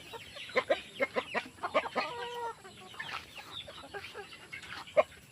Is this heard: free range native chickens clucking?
yes